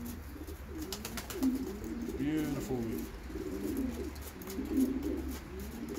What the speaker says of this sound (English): Very nice pigeon.